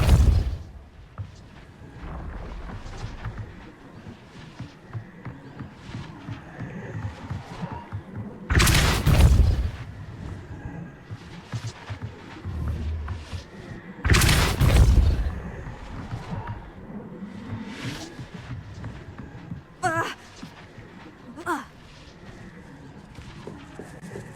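Two heavy, booming blasts of the Confringo explosive spell in the video game Hogwarts Legacy, spaced several seconds apart over quieter rumbling game ambience, with a brief faint voice.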